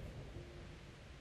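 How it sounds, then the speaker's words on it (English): Thunderstorm in Kingdom Come: Deliverance, a steady broad rumble of rain and distant thunder rolling on without clear breaks, fairly quiet and with no voices over it. "Not afraid of thunderstorms, are you?"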